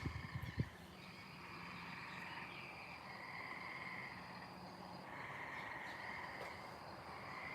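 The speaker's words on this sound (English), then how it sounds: "The frogs are going at it again." Frogs croak in a steady, faint chorus of repeated calls, joined by insect-like trilling, after a few brief close knocks at the start.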